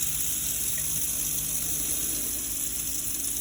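Fresh water runs steadily from a motorhome tap with the water pump switched on, a continuous close hiss and gush holding at an even level throughout with no talk.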